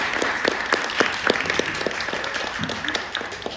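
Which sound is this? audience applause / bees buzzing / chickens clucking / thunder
audience applause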